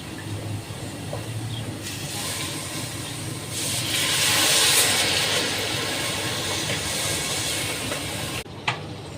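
Tamarind juice is poured into masala frying in a pan for fish curry, and the steady background sizzle swells into a loud, bright hiss that holds for several seconds, then settles before a short clatter.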